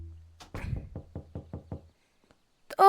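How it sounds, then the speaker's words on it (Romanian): Knocking on a door inside a Roblox video game: a quick series of about seven sharp raps, close and evenly spaced, with a low hum beneath, followed by near silence. "Oh, bate cineva la ușă."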